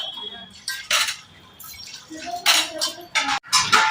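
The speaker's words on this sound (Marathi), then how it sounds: "दोघी जणी मिळून बटाटे धुतायत चांगले" Two women washing muddy potatoes in water, with intermittent splashing, clattering of vessels and dripping in irregular bursts, close by, with some talk.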